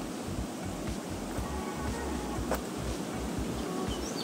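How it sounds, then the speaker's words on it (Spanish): A mountain river in the Garganta de Cuartos gorge near Losar de la Vera, Cáceres, Spain, rushes in a steady broadband wash with a low churning rumble, constant and unbroken, no voices. "porque si os fijáis aquí está el río otra vez"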